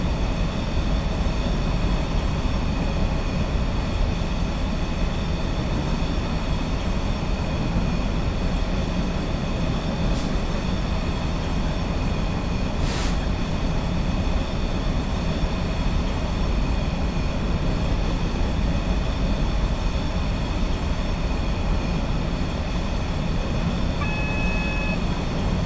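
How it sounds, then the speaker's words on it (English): Class 66 diesel freight locomotive coasting along in Train Simulator 2015, a steady, unbroken rumble of rolling wheels and engine drone with a couple of brief faint clicks midway. "I'm just going to allow the train to continue to coast along here as we head towards the 50 mile per hour speed limit"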